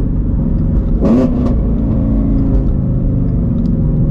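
A Shelby GT350 sports car engine with full bolt-on E85 tuning rumbles steadily with a brief rising rev burst in the middle, loud and close, then settles back to a deep idle growl.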